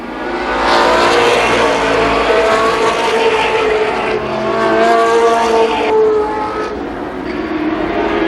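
Race cars lapping Columbus Motor Speedway, a loud, continuous roar of several engines at full throttle, rising and falling as the pack passes close by over about eight seconds.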